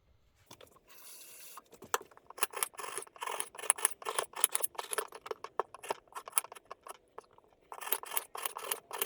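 Apples peeled by hand with a small knife for apple pancakes, giving a steady run of close, crisp scraping and slicing strokes in quick irregular bursts, with brief pauses between and no talking.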